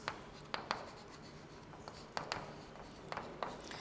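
Chalk or marker writing on a board during a maths lesson on arithmetic sequences, with faint scratchy strokes and a few sharper taps against a soft steady room hiss.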